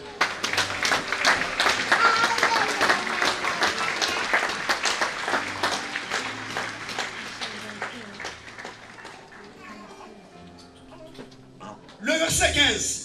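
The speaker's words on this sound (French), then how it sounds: "Est-ce que vous m'applaudissez pour Jésus?" A church congregation applauds for Jesus during a sermon, dense clapping that swells early then gradually fades and thins, with a voice talking over the tail before a brief louder burst at the end.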